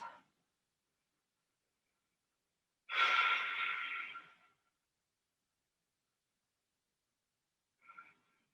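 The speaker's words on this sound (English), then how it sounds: "Take a couple breaths here." Slow, deep breathing during a quiet yoga session, with one long audible exhale in the middle and a couple of shorter, softer breaths at the start and end, separated by near silence.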